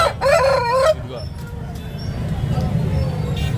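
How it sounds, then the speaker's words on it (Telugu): A rooster crows at a poultry market in Nellore, a harmonic call close by at the start, followed by steady low market noise. "ఆ ఎర్ర పుంజు మాత్రం తెగ ఎగురుతూ ఉంది"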